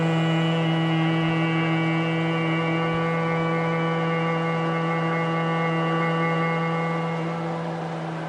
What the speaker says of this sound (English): While breathing out, start doing the humming sound 10 times.